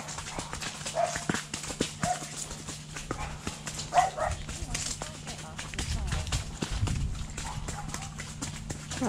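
Dogs bark from nearby kennels during a wet horseback ride in the rain, with scattered barks and yips heard at a distance over the steady clip-clop of hooves and outdoor rustle.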